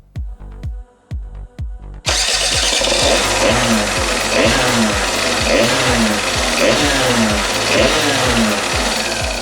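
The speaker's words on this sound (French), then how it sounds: "Vous pouvez démarrer votre moteur." A Peugeot Ludix or Speedfight 3 scooter engine with a newly fitted ignition cranks a few times, catches, and settles into a loud, steady idle with a rhythmic, rattling putter.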